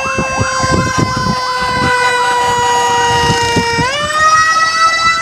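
An ambulance siren in an emergency escort wails loud and close, its sweeping up-and-down tone cycling continuously, with a brief shift into a different siren pattern near the end over traffic rumble.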